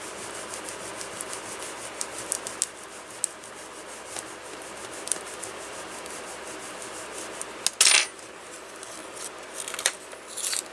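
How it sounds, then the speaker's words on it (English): Paper miniature letter being burnished, soft repeated rubbing and scraping strokes, quiet and close, with a couple of sharper scrapes toward the end. "You can try to burnish it if you want."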